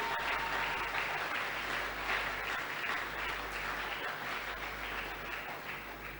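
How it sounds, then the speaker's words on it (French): A church congregation applauding during a sermon on the key of David, a dense, sustained roar of many hands clapping for the whole stretch, steady and full without a break. "Acclame pour le Seigneur qui nous a qualifiés."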